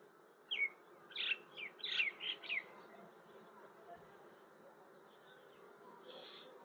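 Honeybees at a hive entrance, set up while strengthening a bee colony, give a low steady buzzing hum, with a short burst of sharp chirps near the start and a fainter chirp toward the end.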